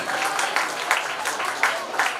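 A crowd at a Bhopal talent hunt claps to welcome a guest on stage: close, busy applause with rhythmic surges every half second or so.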